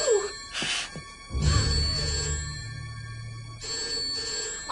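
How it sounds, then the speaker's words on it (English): A telephone bell rings in short repeated bursts, loud and near, with a low sigh or groan between rings. "Answer the bloody phone."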